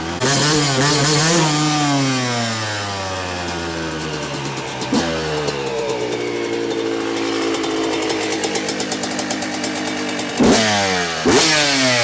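A Yamaha YZ125 two-stroke motorcycle engine revs hard and close, its pitch climbing and falling across repeated throttle sweeps, with sharp blips near the end and no voices.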